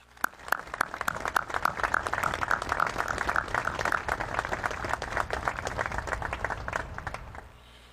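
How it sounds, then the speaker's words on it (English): An audience at a formal ceremony applauds honored American military heroes, a dense, sustained round of many hands clapping that holds steady for several seconds before tapering off at the end. "please join me in a round of applause for these American heroes"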